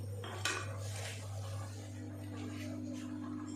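A lid is set down on a greased cooking pan with one clear metallic clink, followed by faint clattering under a steady low kitchen hum.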